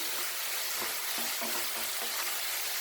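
Curry paste fries in a hot pan with a dense, steady sizzle and crackle, close and continuous, with occasional soft stirring scrapes.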